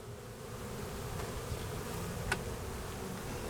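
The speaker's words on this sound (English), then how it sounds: "And look at this population of bees." Honey bees hum in an opened hive during a January inspection, a low steady drone close by with a brief sharper buzz as one passes near; no one speaks.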